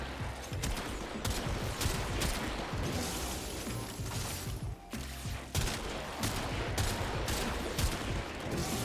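Rapid gunfire from sniping as Wukong in the shooter game Warframe, loud and continuous, with dense overlapping shots and bursts packed across the whole stretch and brief gaps near the middle.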